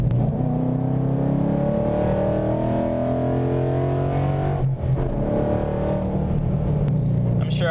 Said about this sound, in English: So that was a 4th gear to 5th gear pull, and it pulled hard.